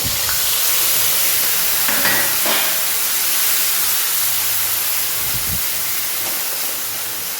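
Mashed onion paste hits hot oil already seasoned with nigella seeds for a Bengali boal fish curry, giving a loud, steady broad sizzle that barely fades, with faint clinks near the start.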